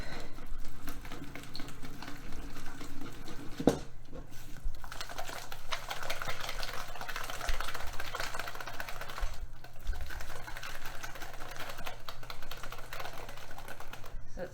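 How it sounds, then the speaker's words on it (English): Batter being whisked by hand with baking powder for a keto chicken pot pie, a steady fast scraping rattle that carries through the whole stretch, briefly pausing around the fourth and tenth seconds, with no talk over it. "quarter teaspoon of baking powder, and we whisk that up"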